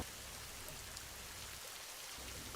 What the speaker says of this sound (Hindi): और बारिश भी हो रही है और घर जाने में मैं पूरा भीग जाऊंगा